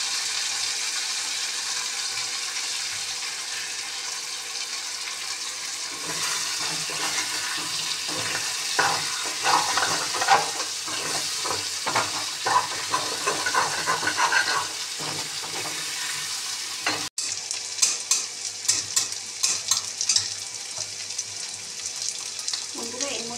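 Onions fry in a pan with a continuous crackling sizzle, joined midway by busier stirring and scraping, then a brief drop before the frying noise picks up again. Nobody talks.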